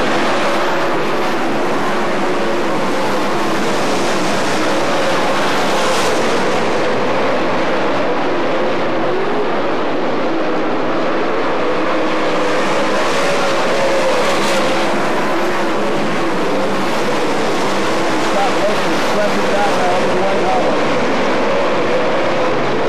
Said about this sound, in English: Now bring them up to speed out of turn four, looking for the green flag this time. Look, we're in the gas